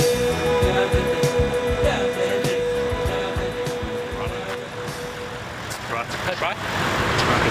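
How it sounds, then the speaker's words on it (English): A truck pulls in along a road, its engine rumbling loud and close with traffic noise around it while people talk nearby. "The truck is pulled in."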